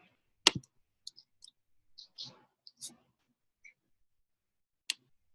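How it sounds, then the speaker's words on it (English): Keys on a computer keyboard are typed in sparse, irregular taps. The crisp clicks come close and isolated, with quiet gaps between them and a few faint softer sounds in between. "So you're going to type this in"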